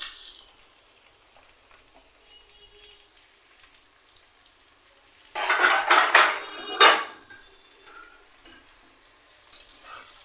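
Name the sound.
potatoes frying in pan with onion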